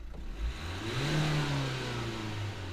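A 2015 Nissan Juke 1.5 dCi diesel with a no-boost fault revs up, its engine note rising and holding a steady hum, close and fairly loud with no voices.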